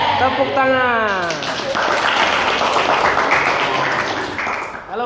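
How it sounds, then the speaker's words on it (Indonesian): A crowd applauds at a morning group gathering, a dense steady wash of clapping that swells after a brief spoken call and fills several seconds, with voices mixed in at the start. "Tepuk tangan."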